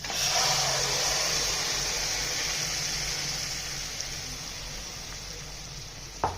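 A steady, bright hiss of hot oil sizzling as a tempering of curry leaves and red chillies crackles for dal palak khichdi, loud at first and easing slightly, with a small clink near the end.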